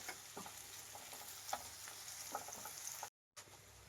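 Spices sizzling and frying in a pan of oil for gooseberry rice, a steady crackling hiss with occasional stirring clicks, close and alone, broken by a brief cut near the end.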